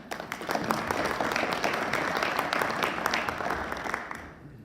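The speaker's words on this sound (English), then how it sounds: "So give her a applause." Audience at an inland port symposium gives a steady round of applause, a dense wash of many hands from a room-sized crowd that fades out at the end.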